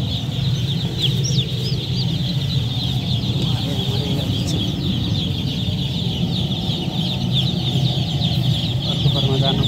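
Kadaknath chicks and chickens in a poultry shed, a dense steady chorus of high peeping with clucks, joined by a constant low hum from a heater running throughout.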